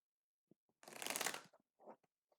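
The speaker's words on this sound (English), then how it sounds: "I'm going to do a few shuffles." A quick riffle shuffle of tarot cards, a single dense flutter of snapping card edges, close and alone, followed by a few soft taps and a short slide as the deck settles.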